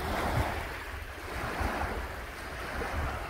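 Surf rolling onto a long, empty beach, a steady wash of waves with wind rumbling across the microphone, continuous and fairly close with no talking.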